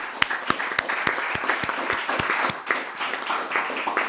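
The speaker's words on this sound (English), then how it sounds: "we want to give our guests a well-deserved round of applause" Audience gives the guests a round of applause at a community event on empowering children, with sharp individual claps standing out over a softer clapping crowd throughout, fairly quiet overall.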